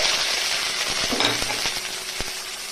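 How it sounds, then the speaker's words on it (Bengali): Chopped onion dropped into hot mustard oil gives a loud, steady frying sizzle close by, with a few faint utensil taps over it and no talking. "সরিষার তেল গরম হয়ে গেল, আমি পেঁয়াজ কুচি দিয়ে দিচ্ছি"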